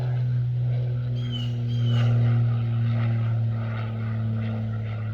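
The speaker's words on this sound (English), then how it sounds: "airplane flying overhead" A propeller airplane drones overhead as a steady, low, continuous hum that swells slightly and holds throughout, with faint outdoor background at an airgun shooting range.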